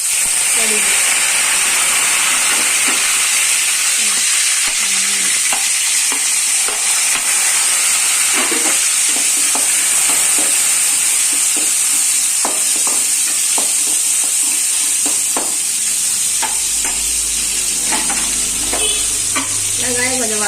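Mustard seeds and fenugreek crackle and splutter in hot oil, a loud steady sizzle studded with sharp pops, with occasional stirring and a voice briefly in the background.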